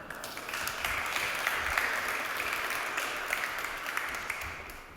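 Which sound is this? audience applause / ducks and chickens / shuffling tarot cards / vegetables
audience applause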